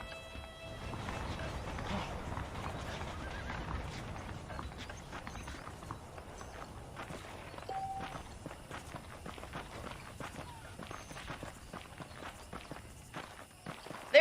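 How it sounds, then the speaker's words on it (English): Saddled horses' hooves clip-clopping in the video game Red Dead Redemption, a continuous stream of dense hoofbeats at a steady walking pace, moderately loud throughout with a brief louder knock at the very end and no talk. "The horses are saddled up over here."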